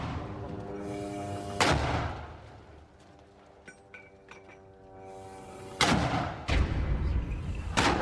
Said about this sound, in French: on voit clairement les résistants tirant plusieurs obus de mortier depuis la bande de Gaza